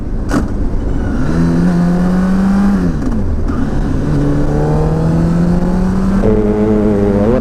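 A motorcycle rides along a road in the Veneto region, its engine loud and close, pitch climbing through gears and dropping between shifts amid rushing wind.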